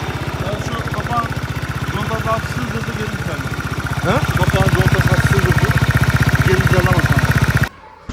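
A Daelim S3 scooter's small engine idles with a fast, even putter, revving up louder midway, while a voice talks over it before it cuts off.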